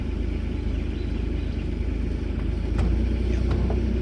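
A Bobcat E42 compact excavator swings while clearing an F350 truck bed. Its engine makes a loud, steady, close rumble that swells slightly toward the end.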